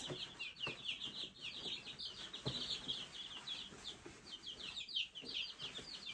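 A brood of week-old American Bresse chicks on a homestead peep constantly in high, overlapping chirps, soft and fairly close, with faint rustling and scratching in the bedding and no talk.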